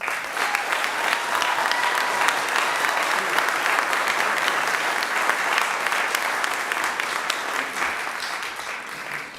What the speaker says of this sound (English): Another round of applause for Captain Edwin Rodriguez